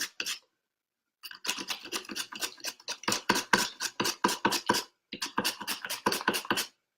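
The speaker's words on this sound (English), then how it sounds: "Do some thin cucumber slices." Knife slicing a cucumber into thin slices on a cutting board in a home kitchen, a fast run of crisp, evenly spaced chops, close and clear, with a short pause before and another near the end.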